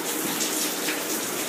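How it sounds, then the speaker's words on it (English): Rainwater pours through a leaking ceiling into an indoor addition, a loud steady gush of splashing water with no pauses and no voices. "This right here, it's water pouring out of it."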